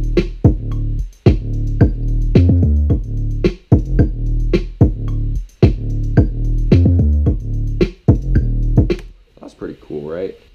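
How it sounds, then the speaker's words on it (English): Hip-hop drum beat with booming kick and 808 bass, layered snares and a busy hi-hat groove, playing loud and steady in a repeating pattern before cutting off near the end as a voice begins. "All together, all those drums sound like this."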